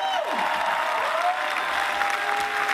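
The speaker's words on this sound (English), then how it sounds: "give him a big applause" An audience at the closing ceremony of the InterCamp 2015 scout jamboree applauds a new chief receiving the flag, a steady mid-distance wash of clapping with a faint sustained tone running beneath it.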